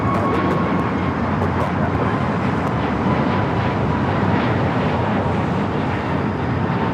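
A military aircraft at LAX airport at night, a loud, broad, continuous roar with wind buffeting, holding steady and close throughout.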